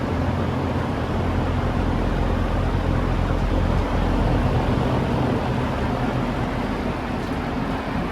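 A Lasko electric fan running on its low setting, giving a steady broadband whoosh with a low hum that holds constant and fairly loud, with no other sounds.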